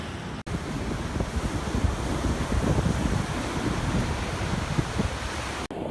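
Surf rolls onto an Australian beach in a steady, broad roar, with wind buffeting the microphone and making a rumbling, continuous wash that stays fairly loud and unbroken for the whole stretch.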